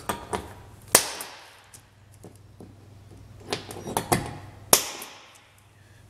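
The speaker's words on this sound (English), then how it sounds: "I take a spring-loaded center punch, and I'll go" A spring-loaded center punch snaps sharply against sheet metal along a bend line, several crisp close clicks at irregular intervals, a few louder than others, with light handling between.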